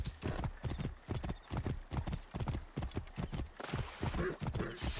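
A horse's hooves clip-clop across the ground in Assassin's Creed Origins, a steady, close rhythmic trot of sharp, regular hoof strikes that runs the whole way through.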